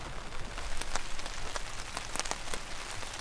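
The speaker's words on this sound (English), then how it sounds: "It has basically been pouring all night long" Heavy rain pours steadily onto a riverside campsite, a dense close patter with scattered sharper drops hitting a surface, continuous and even throughout.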